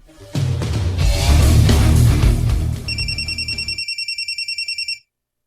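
A telephone rings in a drama scene, a rapid trilling ring lasting about two seconds that follows a louder burst of background sound.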